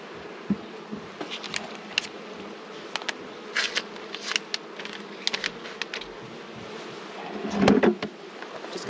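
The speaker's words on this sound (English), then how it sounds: "look at all those bees there" Honey bees swarm around an opened backyard hive during an April inspection for a virgin queen, a steady close buzz running throughout with brief louder bursts as individual bees pass near, plus a few light knocks and scrapes from the hive box.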